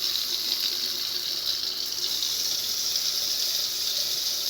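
Water running steadily from a tap during bathroom maintenance in a villa, a constant hissing stream with no talking over it.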